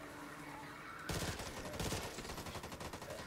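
Gunfire from the Hoffmann bot in Back 4 Blood erupts after a quiet second, a loud, close, rapid automatic burst that settles into a steady rhythmic volley of shots.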